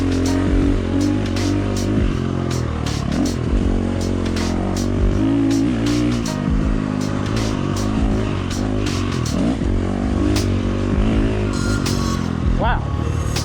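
Loud, close engine drone from a motorcycle running a Tokyo Mods Vortex ECU, revs swinging up and down in quick surges across the whole stretch, a voice speaking over the engine.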